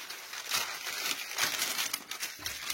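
A sheet of parchment paper being laid over cake dough crinkles steadily and close up, a soft continuous papery rustle with no voices.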